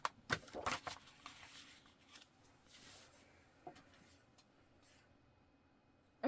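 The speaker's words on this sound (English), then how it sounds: "it looks like we gotta do a little bit of trimming" Scissors trim fabric pattern pieces for a sewing project, giving a run of soft, close snips and rustling paper-and-cloth sounds in an otherwise quiet room, with no talking.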